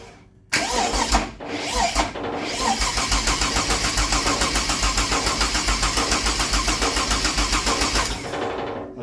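A rat rod car engine starts after a few brief cranking bursts, catching and settling into a loud, rhythmic, slightly lumpy idle that continues until near the end.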